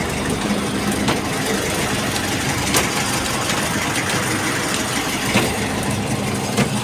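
A fishing boat's engine drones steadily and loudly at sea throughout, a constant low rumble with faint knocks and no talking.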